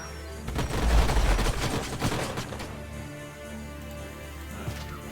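Gunfire from the sci-fi strategy video game Age of Wonders: Planetfall, a dense burst of rapid shots and booms that peaks early, then thins into scattered reports over a steady background rumble.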